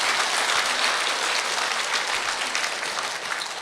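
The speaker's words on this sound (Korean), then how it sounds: "그러니까 칭찬받아야 할 일이니까 격려 박수를 부탁드립니다." Audience applause of encouragement at a Buddhist Q&A talk, a dense, even wash of many hands clapping that holds steady throughout.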